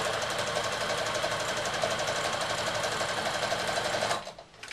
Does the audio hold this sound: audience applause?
no